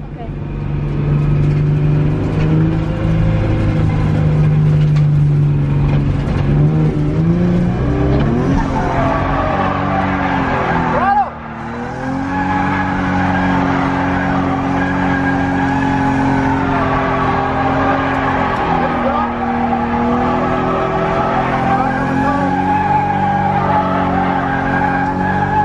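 A drifting car holds a loud, steady roar as its engine revs rise and fall, with sustained tire squeal and skidding throughout; people talk over the noise.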